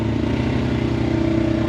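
Can-Am Maverick X3 side-by-side engine held under throttle, a close, loud, steady throbbing drone with mechanical clatter and no pause for its short length.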